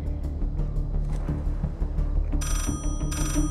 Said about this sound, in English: There's the call.